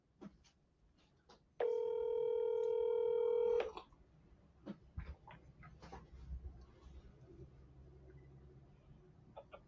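A telephone call goes out: a steady dial tone or ringback sounds loudly for about two seconds, then quieter background noise and scattered clicks follow.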